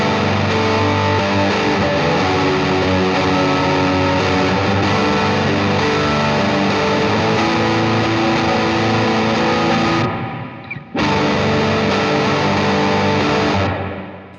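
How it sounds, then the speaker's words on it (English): A sustained electric guitar through an overdrive pedal rings out loud and bright for several seconds, cuts off abruptly, then resumes briefly before fading. "I kind of set up my overdrive pedal in a way to push a little more top end"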